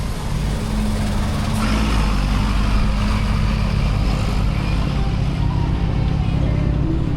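Heavy traffic rumbles along a Mexico City street at night, buses and cars streaming past in a continuous loud engine roar with a deep low drone and no clear pauses.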